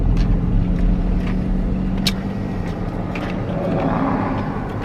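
Steady low road rumble of a car creeping through construction traffic, continuous engine and tire drone filling the background with a few faint clicks and passing noises, no voices.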